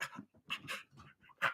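A restless pet dog whimpers in short high whines mixed with quick panting breaths, close by and fairly quiet, in uneven bursts with brief gaps.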